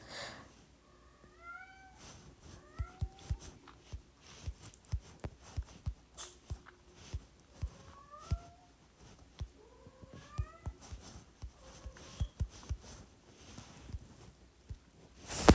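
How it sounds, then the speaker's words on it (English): A cat meows repeatedly in rising, drawn-out calls, close by, over soft irregular thumps and faint background noise. "That's just my cat."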